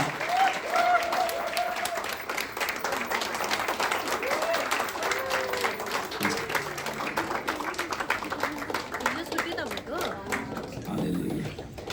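Wedding guests applauding together in a hall for a newly married couple, sustained even clapping under a voice talking over it, fading toward the end.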